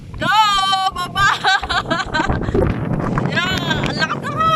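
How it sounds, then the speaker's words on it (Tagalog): Strong gusts of wind buffet the microphone outdoors on a mountain, roaring loudly in bursts under excited shouting and cheering voices. "Ang lakas ng hangin!"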